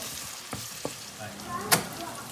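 Prawn malai curry with chopped tomatoes being stirred in a hot pan, a steady low sizzle broken by a few soft scraping strokes and one sharper clatter near the end, with no talking.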